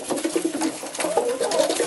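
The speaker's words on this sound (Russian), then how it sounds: "Голубь хочет любви с голубихой, нападает на нее, а она отказывается." A male pigeon coos close by while courting a female, a series of soft throaty rolling coos repeated in quick succession with no talking.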